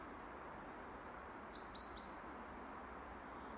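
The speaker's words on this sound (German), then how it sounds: "Hört einfach mal diesem Vogel zu" A small songbird gives a few faint, high chirps outdoors near ponds on an autumn walk. The brief cluster of calls sits over a soft, steady outdoor background.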